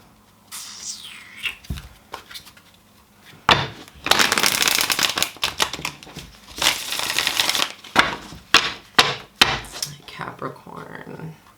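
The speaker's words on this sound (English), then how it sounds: "let's do the shuffle for Capricorn" Tarot cards being shuffled in a series of crisp riffling and slapping bursts, with a few sharp taps and pauses between them, close and fairly loud with no talking.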